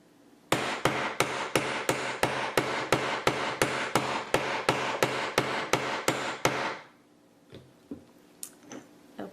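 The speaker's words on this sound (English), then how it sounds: "using a weighted rawhide mallet, we're going to hammer the top" About sixteen evenly spaced, heavy thuds of a weighted rawhide mallet hammering the top of a ring and hoop press in a steady rhythm, then a few faint scattered taps and clicks.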